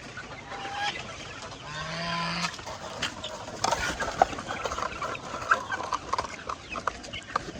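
Chickens on a small farm eating hungrily as feed is set on the ground, several hens clucking and squawking near and far, with a brief crow-like call early and scattered pecking sounds over a soft rustling background.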